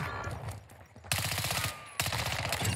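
Akimbo full-auto pistols in Modern Warfare fire in rapid, dense bursts, loud and close, with two sharp surges of rattling shots and no voices.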